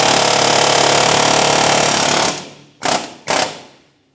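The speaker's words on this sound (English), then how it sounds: "I'm going to be using my air hammer along the backside here" Loud, continuous rapid hammering of an air hammer against metal, driving out a rear wheel bearing on a Mitsubishi Lancer, for about two seconds, then two short bursts before stopping.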